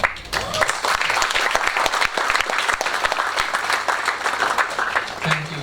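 Loud, sustained applause from a student audience after a tech talk, many hands clapping densely and evenly throughout.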